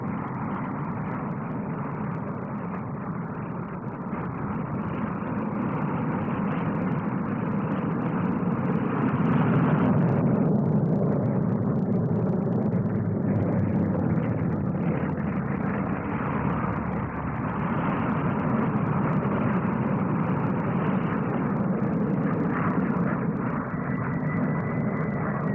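A propeller aircraft drones steadily overhead at the 1958 Farnborough air show, its engine noise swelling slightly and fading as it passes, with no voices.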